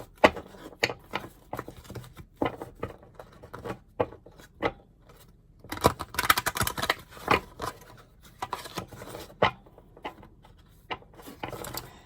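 Quick rustling riffles and soft slaps of cards being shuffled, in bursts with brief pauses, close and fairly quiet.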